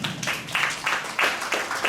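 Audience applause at a book presentation, a fairly quiet patter of hand claps coming in soft bursts from a small crowd.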